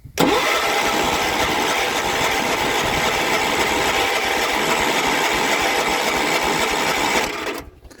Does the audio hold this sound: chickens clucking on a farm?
no